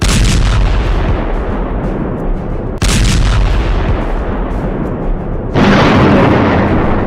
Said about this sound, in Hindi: गाजा पर हो रही इजराइल की दिन रात बमबारी और धमाके